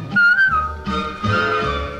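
Someone whistles a melodic tune in a song. The clear whistled notes are brief and loud, with music underneath.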